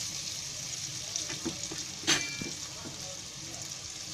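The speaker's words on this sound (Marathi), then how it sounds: "आता त्याच्यामध्ये हा कांदा टाकते" Chopped onion dropped into hot oil with turmeric for green moong dal khichdi, a soft steady sizzle with a sharp crackling burst midway and light stirring noises.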